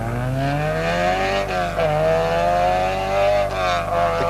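An Opel rally car on the 1982 Ulster Rally, running on soft forest springs on tarmac, its engine revving hard and sweeping up and down in pitch as it passes close and loud, with no talk.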